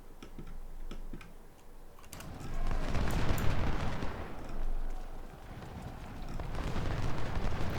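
Musket volleys and cannon fire rumble through a Civil War battle at Gaines' Mill in the strategy game Ultimate General Civil War, as a dense, continuous crackle of distant shots rises and falls with rolling booms.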